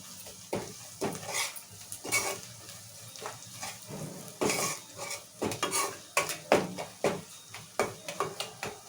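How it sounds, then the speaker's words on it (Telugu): A spoon scrapes and clanks against a metal pot while spices and mutton are stirred, giving repeated close rhythmic scraping strokes over a faint sizzle, with no talking. "ఇవన్నీ మంచిగా ఒకసారి ఇలా కలుపుకుందాము"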